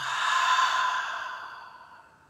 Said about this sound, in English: Let's do two more inhales. Feel this integration. And one more. Inhale. And exhale.